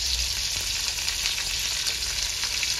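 Onions, green chilli, tomato and ginger-garlic paste frying in hot oil make a steady, dense sizzle close by, continuous and unbroken with faint stirring textures.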